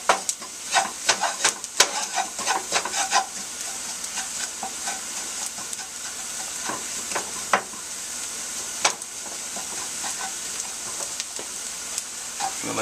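A flour roux for mac and cheese cooks toward light golden brown in a pan, stirred with repeated scraping strokes over a constant soft sizzle and hiss, close up with no talking.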